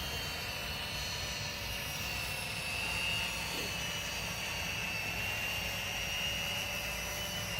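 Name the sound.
Feilun FX176C2 GPS drone motors in flight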